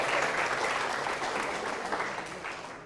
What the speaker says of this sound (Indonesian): Boleh kamu tepuk tangan, boleh tepuk tangan.